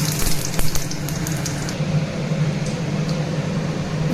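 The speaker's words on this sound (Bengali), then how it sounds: "এখানে মাছ ভাজা তেলে আমি জিরা ফোড়ন দিয়ে দিচ্ছি।" Cumin seeds tempering in hot oil left from frying katla fish give a steady, close sizzle with a few sharp crackles early on, over a low, constant hum.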